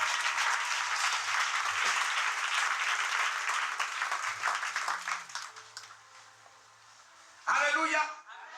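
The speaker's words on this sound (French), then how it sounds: "Acclamons la parole du Seigneur." A church congregation breaks into sustained, dense applause after a scripture reading, clapping loudly for about five seconds before it fades out, followed near the end by a brief burst of singing or voices.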